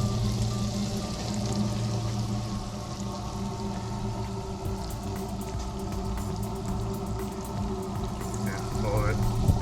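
Crappie fish fry in a deep fryer, a steady crackle and sizzle of hot oil that holds even and close throughout, with someone talking over it.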